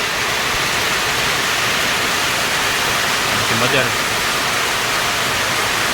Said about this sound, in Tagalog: grabe ang lakas ng ulan mga kabukals